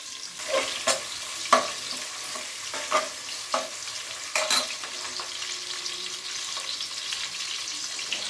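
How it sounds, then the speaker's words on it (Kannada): Chopped onions fry in oil, a quiet continuous sizzle punctuated by a handful of distinct scraping stir strokes at irregular intervals, close by and with no talking. "ಈಗ ಸ್ವಲ್ಪ ಈರುಳ್ಳಿ ಚೆನ್ನಾಗಿ ಫ್ರೈ ಆಗಲಿ ಎಣ್ಣೆಲಿ."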